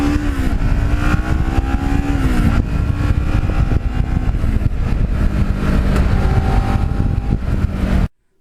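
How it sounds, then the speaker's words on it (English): An uneven firing twin motorcycle engine drones steadily while the bike is ridden on a fall day, a continuous loud rumble with gentle rises and dips in pitch, close up with wind noise and no talking. "Now this bike is an uneven firing twin, so it's got a nice cadence, much like an SV650 has"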